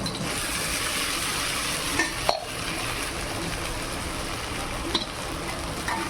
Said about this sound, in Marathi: आता साबुदाणा टाकून घेऊया.